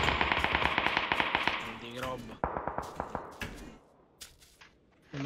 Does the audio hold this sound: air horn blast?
no